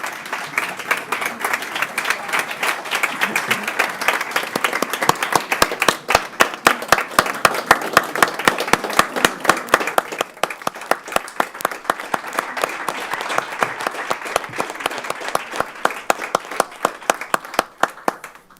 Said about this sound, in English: please join us down here and receive the applause as you should